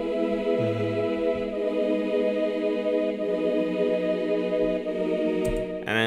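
Boys' choir patch in Omnisphere sounding a sustained chord, a rich steady stack of voices with a low thumping note underneath, loud and continuous with no talking.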